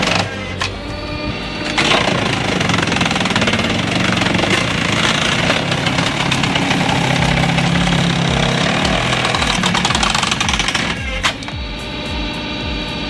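A firewood processor's engine runs steadily at a loud, constant drone, with brief mechanical clatter near the start and toward the end.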